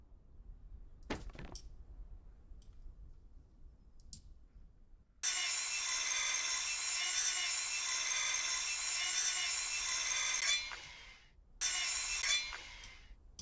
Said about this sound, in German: und dann schleifen wir mal das Ganze